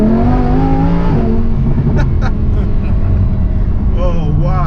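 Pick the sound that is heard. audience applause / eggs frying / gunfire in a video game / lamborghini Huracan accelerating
lamborghini Huracan accelerating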